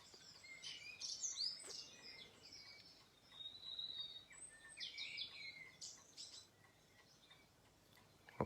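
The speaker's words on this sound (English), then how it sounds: "we must have had the music on for an hour because I've only got an hour of birdsong" Recorded blackbird song plays quietly over a low background hiss, with a few scattered phrases of fluting calls and chirps separated by pauses, with no voices.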